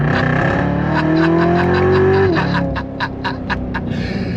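A Chevrolet C7 Corvette Z06 at full throttle, its engine note climbing steadily and loudly before a sharp gear change, then pulling hard again with rapid pulsing exhaust crackle, heard from close up.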